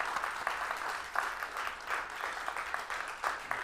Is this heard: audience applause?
yes